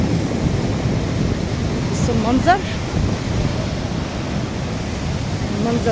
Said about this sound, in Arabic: هنا بقى الشاطئ ده بموجة، بس طبعا ممنوع العوم فيه